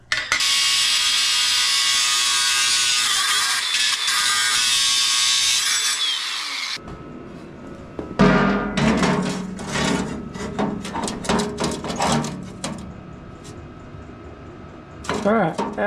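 DeWalt 20 volt cordless grinder cutting through angle iron, a loud steady high-pitched whine for several seconds that cuts off, followed by clanks, knocks and handling noise of the metal nearby.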